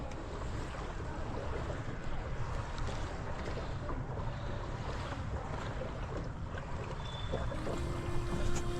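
Boat ride on the Hooghly river near the Imambara, with a steady close rumble of the boat and water washing alongside under continuous wind buffeting the microphone, no voices.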